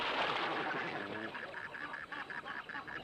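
Great white pelicans flocking at drying river oxbows in Africa's Luangwa Valley give low honking, goose-like calls, several birds calling in a ragged chorus close by.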